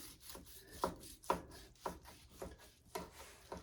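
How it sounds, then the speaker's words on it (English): A knife slices through tender smoked brisket in soft, rasping strokes, six or so quiet rubbing cuts spaced about half a second apart, close and faint with no talking. "I'm gonna cut"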